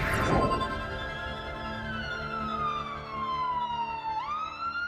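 An ambulance siren wails steadily, its pitch sliding gradually lower as it passes, then jumping back up near the end, after a short burst of noise at the start; it sounds moderately close, with no talking.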